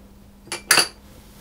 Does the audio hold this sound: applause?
no